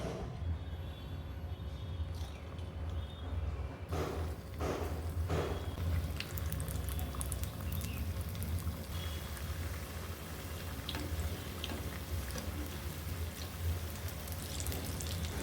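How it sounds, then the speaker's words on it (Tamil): Sweet Chettinad seeyam balls of rice and dhal dough, dipped in batter, deep-fry in hot oil with a steady, dense crackle and bubble. A few louder splashes come early, then the hiss runs on evenly with no talk. "இப்போ இதை அப்படியே எண்ணெயில் போட்டுக்கலாம்"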